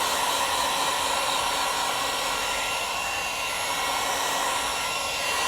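A heat gun blows a loud, steady, broadband rush of hot air onto the window tint of a Rivian R2, warming the film for removal, continuous and close throughout.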